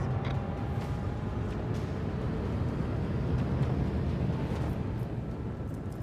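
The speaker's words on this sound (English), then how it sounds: "Engage the engines." Starship engines engage in the video game Warhammer 40K Rogue Trader, giving a steady, dense rumbling roar that holds at an even level throughout, with no talk over it.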